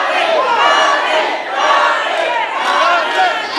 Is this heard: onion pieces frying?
no